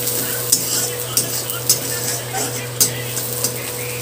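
Bay leaves crackling in very hot oil in a pan, steady sizzle broken by sharp spoon clicks against the metal every half second or so, close and fairly loud, with no speech.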